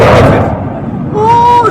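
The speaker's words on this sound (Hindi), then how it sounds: "देख पा रहे हैं आप, भीषण जोरदार विस्फोट होता है तेजस।" A Tejas fighter jet crashes at the Dubai Air Show, a loud, heavy explosive boom rolling out over about two seconds with a distant rumbling tail and no talking.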